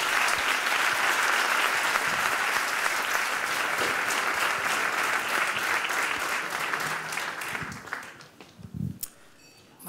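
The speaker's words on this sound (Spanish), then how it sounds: "yo creo que se merecen un aplauso" Sustained applause from a seated audience at an innovative agri-food industry forum, dense and steady for about eight seconds before thinning out and trailing off near the end.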